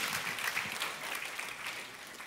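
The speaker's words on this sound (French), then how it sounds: "Applaudissez pour de vrai si vous voulez applaudir." Applause from a church congregation during a sermon, a moderately loud burst of many hands clapping that tapers off slightly, with no speech over it.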